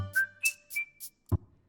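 A recorded human whistle plays a short sequence of clear, pitched notes, the first rising, each separated by faint breathy onsets, ending with a brief low thump; quiet and close, with no speech.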